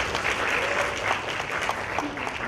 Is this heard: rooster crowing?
no